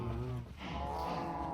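Cows in the Minecraft video game moo in a loud, sustained low bellow that dips briefly in the middle and then carries on, heard alone without any talking.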